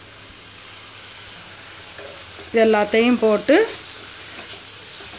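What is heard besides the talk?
onions and tomatoes sautéing in pan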